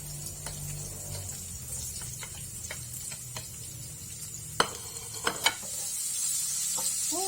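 Garlic and onions sizzle steadily in a pan for a chicken curry, with a soft hiss broken by occasional sharp clinks and scrapes of a spoon stirring, close and fairly quiet.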